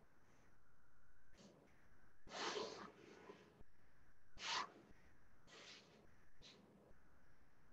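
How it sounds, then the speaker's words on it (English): A person blows their nose several times during a rest break in a total body workout class, with short forceful nasal bursts spaced across the clip, close to the microphone and alone without talk. "Blowing my nose"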